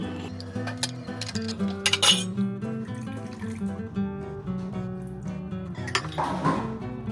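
A teaspoon stirring drink ingredients with milk in a glass, giving repeated bright clinks and taps against the glass, irregular and close, with a few louder knocks and a brief rustle near the end, no talking.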